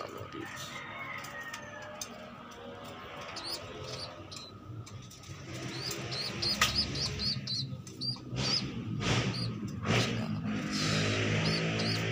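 Pigeons in a breeding loft coo in soft, repeated low calls, mixed with bright chirps and brief rustles and flaps, growing busier and louder toward the end.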